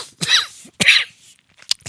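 Two harsh, close coughs from a man with a whooping-cough-like illness burst out in quick succession, followed by a faint short noise after a pause.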